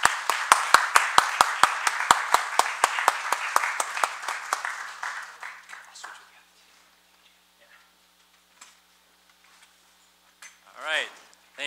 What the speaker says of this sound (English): Please help me welcome Jan Smitowicz.